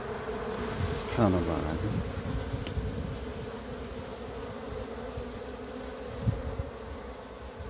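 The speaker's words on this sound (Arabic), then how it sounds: "هذا هو النحل" Honey bees buzz close by around a hive, a dense droning hum with single bees whining past. Someone speaks briefly over the buzzing.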